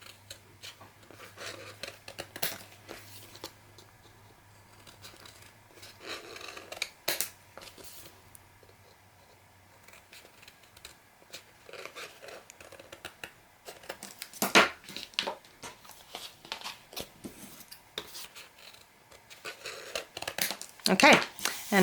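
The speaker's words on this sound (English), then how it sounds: "angle my scissors a little bit, and then cut out" Scissors cutting chipboard and paper while making a witch's garden album: scattered close snips and crinkling cuts at uneven intervals, a soft background hum, and a person talking throughout.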